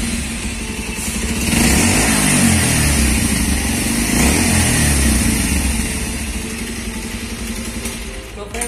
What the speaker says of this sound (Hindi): तो चलिए हम आगे यहाँ पे आपको इसका एग्जॉस्ट नोट सबसे पहले सुना देते हैं।